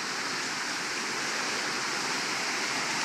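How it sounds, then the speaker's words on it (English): Waterfall beside a farm water system, a steady, full rushing roar of falling water that holds constant throughout with no voices. "So this is it up here by the top of the waterfalls."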